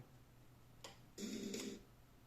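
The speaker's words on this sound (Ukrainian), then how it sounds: "Чути, як клацає реле." A couple of soft mechanical relay clicks from a CDR2005 car radio switched by a touch button, followed by a brief louder electrical buzz, all fairly quiet against a low background hum.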